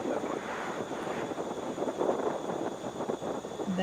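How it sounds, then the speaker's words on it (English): A Delta Airbus A320 airliner arriving at Atlanta airport sounds as a faint, distant, steady rumble with gusty wind noise, fairly quiet throughout. "That is an Airbus A320."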